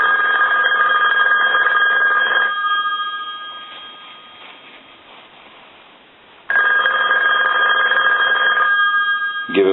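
A red Western Electric 2500 desk telephone rings loudly and close by, its bell going for a couple of seconds, dying away into a quiet gap, then ringing hard again.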